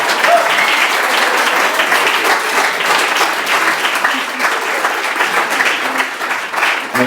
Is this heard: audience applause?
yes